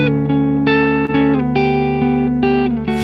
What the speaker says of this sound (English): The amp is based on a Marshall JMP 100 watt, and the cab is based on a Marshall 1960A.